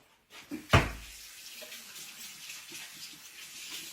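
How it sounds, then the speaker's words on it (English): Hands are washed under a running kitchen tap in a home kitchen: a steady rush of water runs throughout, with a sharp knock near the start, and no voice is heard. "Let me wash my hands so I can talk to y'all"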